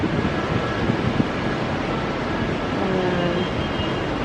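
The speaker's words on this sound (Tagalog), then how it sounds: "Mahangin, guys." Strong wind gusting across an open balcony, a steady broadband roar with buffeting rumble against the microphone, continuous and loud throughout with no talk.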